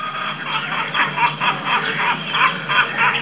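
Ducks at an orchard farm quack in a rapid, repeated series of nasal calls, loud and close, with other poultry noise mixed in and no talking.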